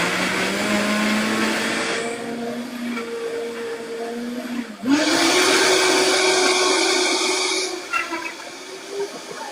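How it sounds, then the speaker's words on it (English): A Vitamix blender, about 18 years old, churns curry paste with a loud, steady whine that drops briefly as the motor changes speed midway, then climbs back to a higher pitch before easing off at the end. "let me just blend up this last batch"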